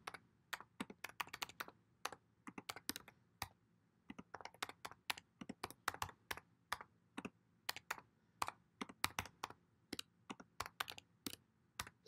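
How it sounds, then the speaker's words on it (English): Crisp, rapid keystrokes on a computer keyboard while entering a Cardano wallet's recovery words, irregular bursts of clicks with short pauses, close and fairly quiet, no talking. "So you actually have to type it out."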